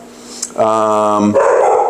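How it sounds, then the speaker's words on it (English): A dog gives a single drawn-out, tonal bark or yowl close by, cutting in after a moment of near quiet and then fading into a softer breathy sound. "the dog is going to start barking"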